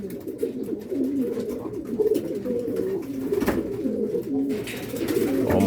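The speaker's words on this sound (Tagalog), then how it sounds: "Mga ibon natin." Racing pigeons coo steadily in a loft after a sprint race, a continuous soft murmur of overlapping low calls close by, with no talk.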